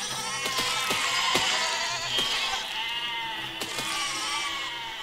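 Sheep bleat in overlapping, wavering cries in the video game Besiege, several animals calling loudly over sharp clicks and knocks, with no talk.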